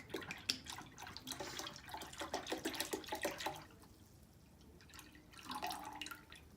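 Soy sauce glugging and dripping as it pours from a bottle, a busy liquid splatter for a few seconds, then a pause and a shorter second pour, close and fairly quiet.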